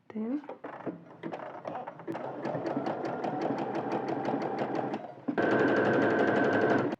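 A sewing machine stitches women's trousers, starting with a few slow, separate stitches that speed into a steady, rapid whirr, then grows louder and denser near the end.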